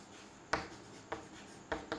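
A pen scratches across paper while a list of crop names is written out, in four separate short strokes spaced irregularly, close and quiet, with no voices.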